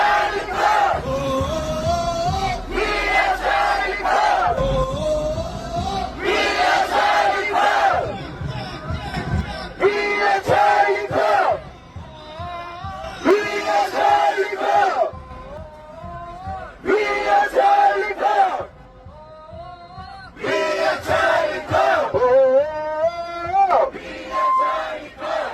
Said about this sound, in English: In Korea, a chant of "We are Charlie Kirk" rang out.